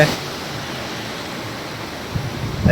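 Heavy rain falls beside a bridge over a river in full flow, a steady, dense hiss that swells slightly near the end.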